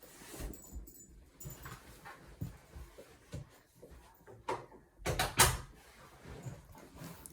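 A dog whimpers and moves about near a door indoors, with scattered soft thumps, scrapes and a burst of louder knocks and rattles partway through, fairly close and quiet overall.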